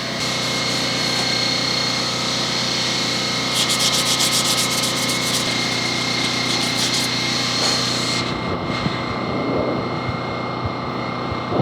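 Sanding body filler on a 1987 Mazda RX7: a steady, close rasping scrape runs for about eight seconds with a brief rhythmic burst partway through, then stops and leaves faint handling noises.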